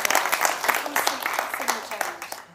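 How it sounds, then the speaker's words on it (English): Audience applause at a youth climate event session on zero-carbon music, steady crowd clapping lasting a few seconds at moderate loudness and slowly tapering off. "Can we just give a round of applause for Faye and that amazing work?"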